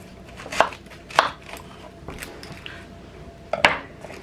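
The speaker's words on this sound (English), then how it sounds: "Now you want to cut your onion in half." A knife slicing through an onion on a cutting board while making fresh pico de gallo, three or four crisp cuts ending in sharp board knocks, close and clear with quiet gaps between.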